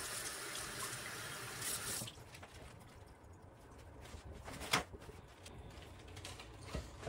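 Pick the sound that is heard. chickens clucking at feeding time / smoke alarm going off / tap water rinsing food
tap water rinsing food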